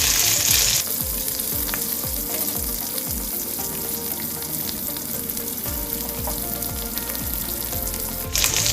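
Chopped chillies frying in a pan for egg fried rice, a steady close sizzle with repeated stirring scrapes in the first half, continuing evenly with no talk.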